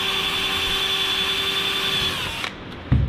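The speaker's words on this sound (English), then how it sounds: "I'll drill that first hole there that I marked" Power drill boring the first hole through the aluminum dorsal fin of an L750 Cricket aircraft kit, a steady close high whine for about two seconds that winds down and stops, followed by a faint handling clunk.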